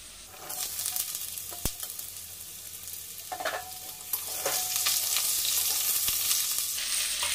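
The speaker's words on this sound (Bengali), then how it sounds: "এগুলোকে এবার ঢাকা দিয়ে দিয়ে ভেজে নেব" Raw banana and carrot sizzle steadily in a hot pan of oil, a continuous frying hiss with occasional stirring scrapes and clinks, growing louder toward the end.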